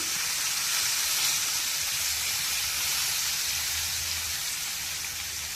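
Chicken pieces frying in a pan, turned over and over: a steady, close, broadband sizzle that holds evenly throughout with no voices over it.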